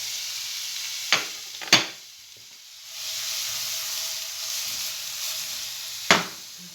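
Onion and garlic gently poach in a pan with a soft, steady sizzle. A couple of sharp utensil clicks and a later scrape interrupt it, and the sizzle swells slightly partway through. No voices.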